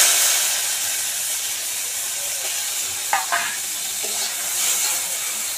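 Bitter gourd goes into a little hot oil in a pan scorched black and sets off a loud continuous hissing sizzle, with a few stirring clinks partway through and no talking.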